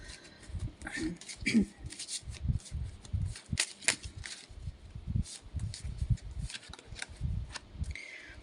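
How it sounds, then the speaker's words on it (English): A deck of cards is shuffled close by in repeated riffles and soft slaps, with a few brief rustles in between. "I needed one more shuffle."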